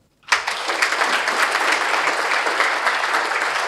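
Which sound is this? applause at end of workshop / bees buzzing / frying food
applause at end of workshop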